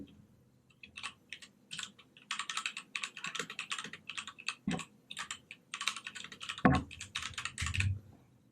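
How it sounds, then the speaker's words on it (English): Fast typing on a Keychron K2 mechanical keyboard, close and crisp, in bursts of rapid clicky keystrokes with short pauses and a few heavier thumps near the end. "So I'm testing the keyboard."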